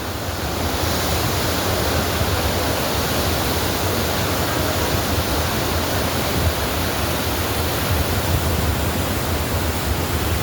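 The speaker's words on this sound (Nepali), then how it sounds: "हाम्रो अरुण नदी यस्तो डेन्जर छ" The Arun River roars with a steady, dense rush of water that fills the air without a break, loud and constant with no voices.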